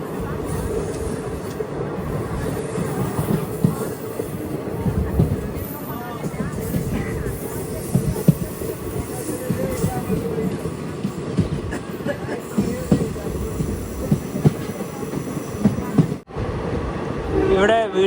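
The Jaynagar to Janakpur international train from India to Nepal rolls along rail tracks, heard from aboard as a steady loud rumble and rattle of wheels and carriages, with a brief dip near the end.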